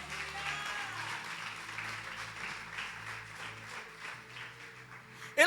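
A church congregation breaks into sustained applause, a dense, steady wash of clapping from many hands filling the room, with a low organ or keyboard drone sustained underneath and no speech.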